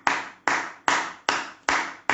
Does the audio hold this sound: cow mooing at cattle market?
no